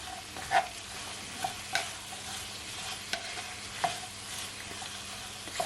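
A chicken and vegetable noodle stir fry sizzles softly in a pan while a utensil stirs it, with a few distinct scraping knocks and clacks against the pan over the low continuous frying hiss.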